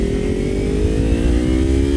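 A 250cc motorcycle engine revs up steadily, its pitch rising as it accelerates, loud and close with no talking.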